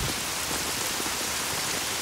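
Steady rain pours down in a dense, continuous hiss, loud and even throughout with no voices over it.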